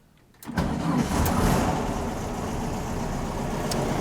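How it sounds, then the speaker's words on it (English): An air-cooled car engine with new batteries cranks briefly and catches, then settles into a loud, steady, close idle with no talk. "New batteries in. Let's see how she cranks over."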